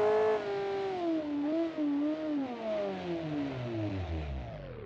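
A racing video game car engine revs with a rising and falling harmonic whine, shifting through gears before winding down at the end, heard alone.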